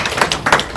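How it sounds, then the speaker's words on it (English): A brief burst of close, sharp clapping at a college football post-game press conference after a game against Baylor, applauding a player named Travis. "everybody just give a round of applause for Travis right here"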